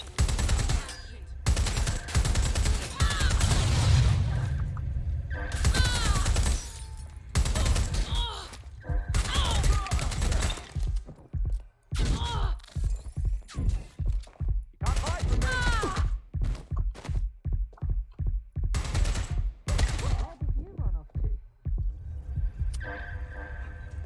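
Gunfire in the video game Watch Dogs Legion rattles out in repeated automatic bursts and rapid single shots with brief pauses between volleys. Loud, close and sustained over about twenty seconds, with occasional game voices.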